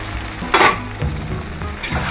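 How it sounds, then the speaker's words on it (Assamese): Chicken pieces sizzle in a pan with ginger-garlic paste, a steady frying hiss broken by three bursts of stirring that scrape and spatter loudly up close. "আদা ৰচুনৰ পেষ্টটো দি অলপ ভালদৰে লৰাই দিলে মাংসটো"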